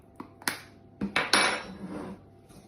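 Metal utensil clinking and scraping against a mixing bowl while baking powder is stirred into flour for banana bread, a few sharp taps then a busier scraping burst, close and fairly quiet with no talking.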